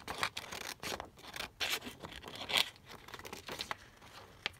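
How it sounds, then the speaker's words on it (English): Scissors snip through sheets of acetate for a cardboard junk journal, giving a run of close crinkly cuts and rustles at an uneven pace with no talking. "So let me just cut out one or two pieces here."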